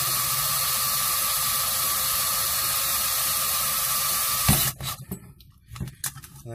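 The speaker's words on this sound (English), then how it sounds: "continue drilling" A steady, whirring drill grinds continuously for several seconds drilling out a rivet, then stops abruptly, followed by a few scattered clicks and metallic handling noises.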